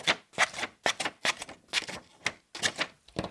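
Nextool S0 multitool scissors cutting through cardboard in about eight quick crunching snips, each a sharp burst with short gaps between, close and clear.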